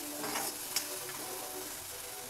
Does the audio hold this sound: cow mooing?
no